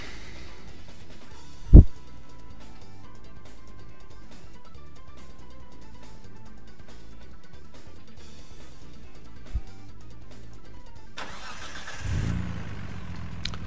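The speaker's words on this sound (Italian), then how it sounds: "qua che rombo di motore" Nissan GT-R Cup race car engine in Gran Turismo Sport at the Blue Moon Bay circuit, a steady mid-pitched engine drone with a sharp thump early on and a louder revving surge near the end, no voices.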